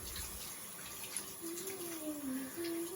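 Tap water runs steadily into a sink as soap is rinsed off hands, a soft, continuous splashing stream heard close and fairly quiet, with no talking.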